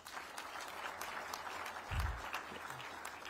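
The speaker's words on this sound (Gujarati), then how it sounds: "735 છોકરાઓ ટોટલ સ્ટાર્ટઅપમાં જે ભાગ લીધો છે બધા માટે એક વખત તાળી થઈ જાય" An audience at a state event claps for hundreds of student startup and innovation participants, a steady, distant wash of applause that stays even throughout the short stretch, with a low thump in the middle.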